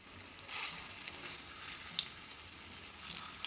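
Jackfruit kofta fritters fry in hot oil, giving a steady, close, hissing sizzle with faint crackles and no voices throughout.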